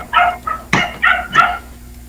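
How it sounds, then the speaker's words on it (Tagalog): Several dogs bark in short bursts, about five yips and barks over two seconds at moderate distance, with no talking. "Daming aso."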